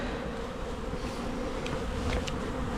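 Honeybees buzz steadily and fairly close throughout an open hive inspection of a full 14 by 12 box with a reduced entrance, a dense continuous hum with a few brief higher whines of individual bees flying past.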